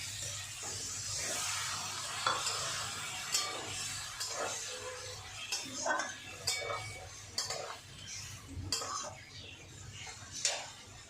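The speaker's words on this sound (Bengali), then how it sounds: "এবার আমি এই যে লঙ্কা বাটাটা আছে এটা দিয়ে দেবো" Chili paste goes into softened frying eggplant in a pan and is stirred, with repeated scraping and clinking of a utensil against the pan over a faint background hiss.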